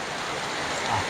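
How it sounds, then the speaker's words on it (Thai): Constant hiss of rain falling on a rainy day, a broad, even wash of drops with no distinct rhythm, moderately loud and heard alone for about a second. "อันนี้เสียงฝนเลยจะน้อยนะครับ"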